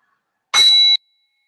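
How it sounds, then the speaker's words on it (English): A meditation bell rings once to close a yoga practice, giving a single clear bright strike with ringing overtones that stops short after about half a second, alone in silence. "In a moment, you'll hear the sound of the bell."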